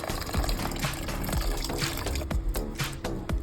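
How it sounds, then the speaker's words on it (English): Water is poured into a cooking pot of moringa drumsticks with bagoong, a continuous splashing and gurgling stream that stays close and fairly loud throughout, with no talking. "And then I added around 3 cups of water."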